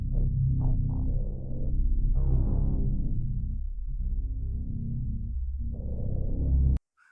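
A low, murky granular-synthesis texture, low-pass filtered with light reverb, swells and fades in grainy, throbbing layers, muffled and dark, then cuts off abruptly.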